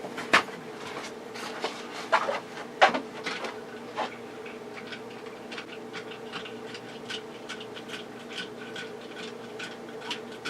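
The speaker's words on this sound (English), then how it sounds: "Let me pull out our tactical mixer." Handheld mixer whirring steadily at close range while mixing a Bloody Mary, with a few sharp clicks and knocks near the start over a constant mechanical hum.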